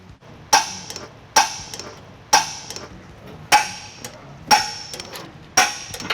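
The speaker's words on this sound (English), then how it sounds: "Now we'll torque all hardware to manufacturer specifications, which will be linked below." Trailer hitch bolts being torqued on a 2019-2026 Subaru Forester, six sharp metallic clicks spaced about a second apart, each ringing briefly, close and loud with no speech.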